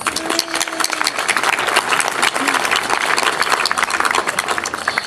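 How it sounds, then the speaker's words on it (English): An audience at an evening municipal band concert applauds the film crew, with dense, sustained clapping filling the space at a steady level. "Please give them a round of applause"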